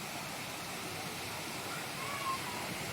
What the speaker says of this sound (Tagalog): Welcome to Bayugo Falls,